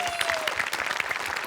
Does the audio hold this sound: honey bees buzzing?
no